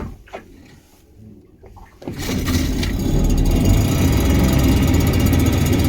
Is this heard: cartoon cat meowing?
no